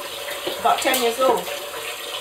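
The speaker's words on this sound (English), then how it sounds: "This is the third wash, and you can see the water runs clear." Running tap water pours over rice during a third rinse in a kitchen sink, a steady splashing stream that continues throughout while a person talks over it.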